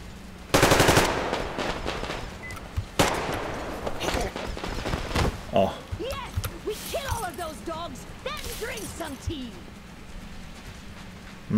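Bursts of gunfire in the shooter Metro Exodus, a loud volley near the start and more shots around three and four seconds, followed by sparse distant reports under a low ambient hum. A person talks in the gaps.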